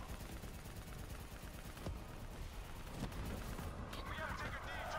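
Dense, continuous gunfire from the Call of Duty Black Ops 3 campaign, rapid automatic bursts layered with explosions and battlefield noise filling the whole stretch, with a few sharper cracks standing out.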